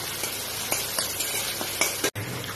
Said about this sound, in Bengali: এবার একটু পুরানো নারকেল দিয়ে একটু ভেজে নিলাম, একটু নাড়াচাড়া করে একটু ভাজা ভাজা মতো করে নিচ্ছি